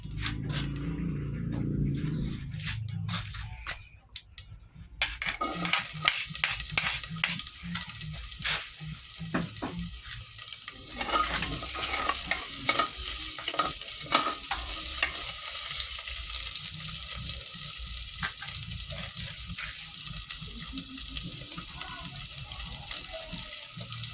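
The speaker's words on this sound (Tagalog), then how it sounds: "mag-gisa muna tayo ng bawang at sibuyas" Garlic and onion sautéing in oil in a home kitchen pan, a quiet start giving way to a loud, steady broadband sizzle with scattered crackles and utensil scrapes, no voices.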